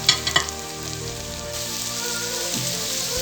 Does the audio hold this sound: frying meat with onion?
yes